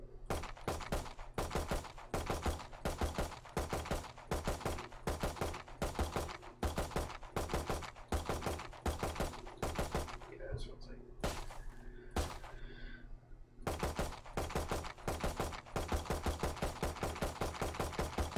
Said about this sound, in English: So I can get three shots off before it jumps.